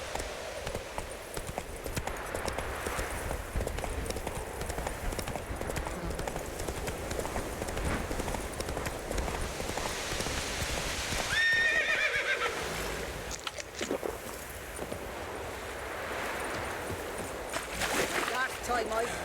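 A horse in The Witcher 3: Wild Hunt gallops with steady hoofbeats and gives a whinny midway, its sounds mixed under game ambience and someone speaking throughout.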